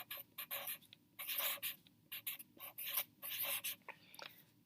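Pen strokes scratch on paper in short bursts as numbers are written out by hand, quiet and close, with brief pauses between strokes.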